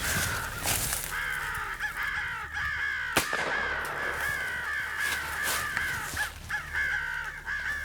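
Crows caw repeatedly during a crow hunt in open country, loud harsh calls overlapping throughout against steady outdoor background noise, with a sharp pop partway through.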